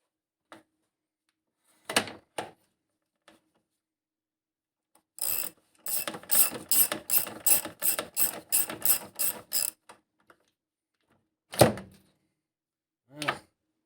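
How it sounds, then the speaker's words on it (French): A ratchet loosens an engine mount bolt on a Saab 9-3, a few isolated clicks and clunks, then a fast run of crisp close ratcheting clicks, followed by a couple of heavier knocks. "je vais la dévisser complètement"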